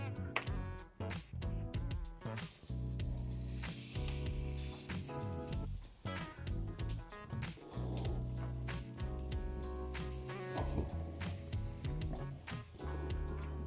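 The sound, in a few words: St. Louis ribs sizzling over direct heat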